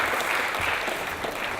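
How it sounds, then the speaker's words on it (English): Steady audience applause fills a conference hall during a Question Time panel, a brief continuous wash of many hands clapping. "Do feel free to applaud if you wish."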